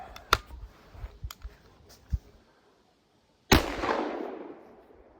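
A 300 Blackout rifle firing a 110-grain Barnes TAC-TX load with Lil Gun powder: a single sharp, loud gunshot cracks after a few small handling clicks and a short silence, followed by a decaying outdoor echo.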